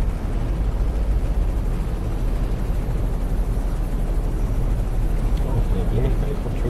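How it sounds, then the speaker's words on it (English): A helicopter flying overhead makes a steady, loud, broadband whirring roar that persists throughout, heard from inside a car. "Oh, blooming helicopter again."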